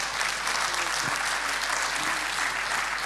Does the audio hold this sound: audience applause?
yes